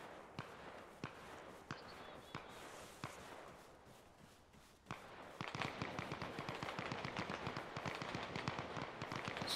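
Gunfire in Arma Reforger: a handful of sharp, separated shots crack out at a distance, then a denser burst of rapid rounds follows, fairly faint against a quiet backdrop.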